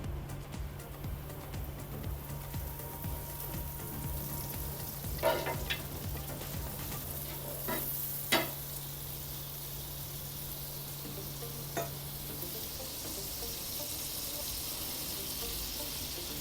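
Butter sizzles in a heated pan while a vegetable sandwich is made, a faint, steady hiss with a few soft clicks and knocks of utensils.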